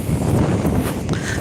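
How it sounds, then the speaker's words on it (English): Strong outdoor wind near a beach buffeting the microphone, a loud continuous low rumbling roar with gusty swells. "It is very, very windy here, guys."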